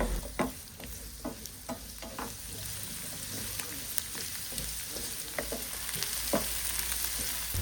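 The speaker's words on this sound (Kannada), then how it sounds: "ಇದಕ್ಕೆ ದೊಡ್ಡ 3 ಈರುಳ್ಳಿನ ಕಟ್ ಮಾಡಿ ಹಾಕ್ತಾ ಇದ್ದೇನೆ. ಸ್ವಲ್ಪ ಫ್ರೈ ಮಾಡಿಕೊಳ್ಳಿ." Three large chopped onions sizzle in hot oil in a pan with a steady close hiss, while a spoon scrapes and taps the pan at irregular intervals throughout.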